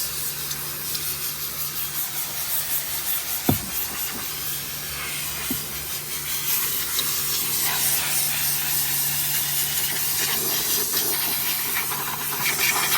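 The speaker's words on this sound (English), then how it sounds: "then hit it with your steamer" A steady, loud hiss of a steam cleaner on the rubber and hard plastic interior parts of a 2012 Ford Fusion runs throughout, with a low hum underneath and a couple of brief knocks early on.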